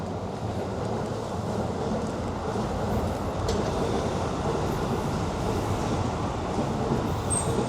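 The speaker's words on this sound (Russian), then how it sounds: "И, кстати, рядом железная дорога. Так вот поезда ездят." Train rolling along a nearby railway in Japan, a steady broad rumble of wheels and carriages heard from outdoors, constant and moderately loud with a faint high squeal near the end.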